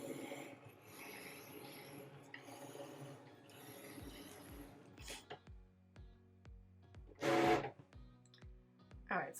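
A Cricut cutting machine works a design with a run of evenly spaced mechanical clicks and ticks, coming after a few seconds of softer rustling and handling, plus one louder whirring burst near the end.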